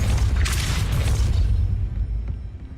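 A Depulso spell is cast in the Hogwarts Legacy video game, a single loud boom that decays over a few seconds into a fading rumble.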